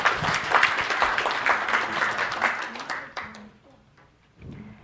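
A crowd claps steadily for about three seconds, then the applause fades out and a voice begins speaking.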